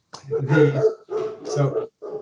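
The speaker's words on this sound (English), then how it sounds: "Oh, we have dogs barking." Great Pyrenees dogs barking and yipping at home in short bursts, fairly close, with brief pauses between the barks.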